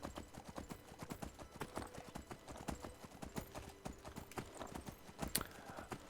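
Rapid, rhythmic hoofbeats of a galloping horse in the video game Skyblivion thud on continuously, fairly faint and even-paced, with no voices over them.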